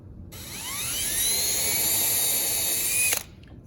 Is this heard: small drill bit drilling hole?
yes